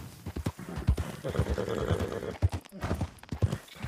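A horse gallops in a video game, its hooves clip-clopping in quick, uneven beats at moderate loudness, and a neigh rises briefly near the middle.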